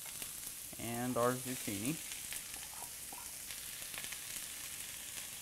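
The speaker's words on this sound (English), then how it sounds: "I'm going to go ahead and go in with our onions into the saute pan." Onions and zucchini sauté in a sauté pan with a steady broadband sizzle, while a nearby voice talks briefly over the cooking early on.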